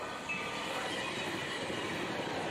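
A train rolls past a railroad crossing, giving a steady, fairly quiet rumble of wheels on rails with faint metallic clatter and no voices.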